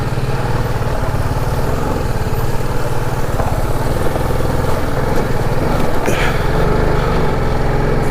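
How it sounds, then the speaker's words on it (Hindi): Motorcycle engine running steadily as the bike rides through a snowmelt water crossing on a mountain road, loud and close, with a constant drone and a brief splash or clatter near the end. "यहाँ पे भी ये बाइक डिसअपॉइंट नहीं कर रही है कि वाटर क्रॉसिंग से भी गाड़ी मेरी आराम से निकल रही है"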